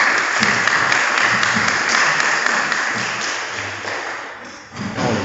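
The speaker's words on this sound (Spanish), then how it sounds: "os dejo aplaudir" Audience applause at the close of a Spanish-language science talk on quantum sensors and dark matter, a steady dense wash of clapping that holds for several seconds and thins slightly toward the end.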